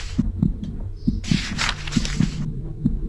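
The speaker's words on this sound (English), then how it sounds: "I don't like this heartbeat." A looping heartbeat in the horror video game The House 2, with steady paired thumps repeating at a regular pace, close and prominent, over a background hum and a surge of hissing noise in the middle.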